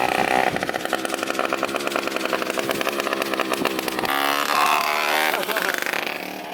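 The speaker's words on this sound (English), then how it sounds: "He's maxing out on his throttle right now." A vehicle engine screams at full throttle, a loud, buzzy, steady roar held near maximum revs that shifts pitch slightly midway, heard close with faint voices underneath.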